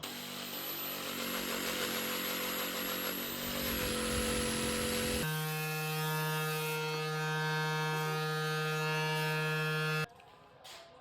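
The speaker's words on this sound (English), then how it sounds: "so I'm just going to cut them in half using my jigsaw" A jigsaw cuts through baseboards, a loud, steady high-pitched buzzing whine that shifts tone partway through and stops abruptly near the end.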